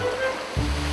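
A mountain valley stream flows in a continuous soft rushing wash, close by and steady, with a slightly stronger low surge near the end.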